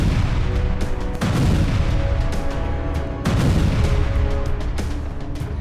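Israeli bombardment in Lebanon heard as loud, heavy booms and blasts at irregular intervals, with dense crackling rumble between the impacts and no speech.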